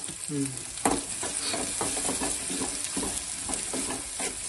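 Capsicum frying in hot oil gives a steady close sizzle, with stirring scrapes and clicks of a utensil in the pan throughout and no talking.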